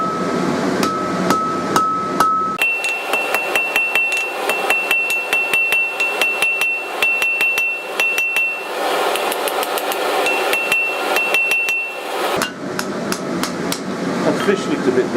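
A hammer strikes hot steel on an anvil in fast, steady blows while a blacksmith forges and fullers a door pull, loud and close, with a bright ringing tone sustained over the impacts.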